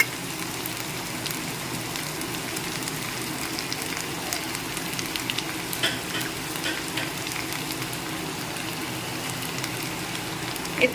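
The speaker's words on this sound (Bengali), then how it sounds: "নেড়ে চেড়ে নিচ্ছি আর এর মধ্যে নারকোল যেটা আমি কুড়িয়ে রেখেছি পুরোটা দেব না কিছুটা দিয়ে দিচ্ছি" Banana flower and grated coconut are stirred in a frying pan for a vegetarian dish, giving a steady crackling sizzle with scraping stirs and small utensil knocks throughout.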